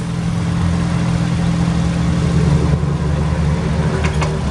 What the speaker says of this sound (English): Unit has a rebuilt Nissan 4-cylinder gasoline engine, plus a tune-up kit, new PM service, plus brand new paint job.